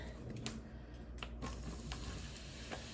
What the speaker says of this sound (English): So I'm dumping in all my mushrooms